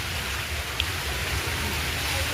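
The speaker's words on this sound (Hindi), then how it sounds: "ये देखिए बड़ा सुंदर, क्या बात है, झरना गिर रहा है।" Waterfall at the Patna zoo pouring steadily, a continuous broadband rushing wash of water that stays even and fairly close throughout, with no voices over it.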